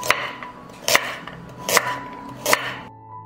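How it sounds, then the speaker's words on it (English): Peeled, washed carrots chopped with a knife on a board, four sharp evenly spaced chops close up, each with a crisp crack. "Now I will cut 500 grams of peeled and washed carrots."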